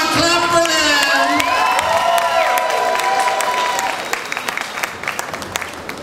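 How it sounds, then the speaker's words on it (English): An audience claps, cheers and whoops loudly at an Alice in Wonderland medley performance at Mile High Comics, with shrill calls sliding over the clapping before the noise thins into scattered claps. "Come on, clap for them!"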